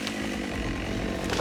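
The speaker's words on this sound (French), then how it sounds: "Les ouvriers forestiers travaillent avec des tronçonneuses toujours plus performantes." A forestry chainsaw runs steadily at close range, its engine a loud, continuous buzzing drone with no breaks and no voices.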